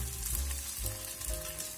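Shrimp pan-fry in hot oil, browning on both sides with a close, continuous crackling sizzle throughout the short stretch.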